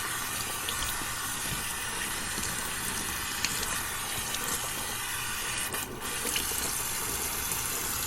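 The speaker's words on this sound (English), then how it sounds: "Now yes, I'm washing soap down the drain." Tap water runs steadily into a sink as shaving soap is washed down the drain, a continuous close rushing and splashing stream throughout.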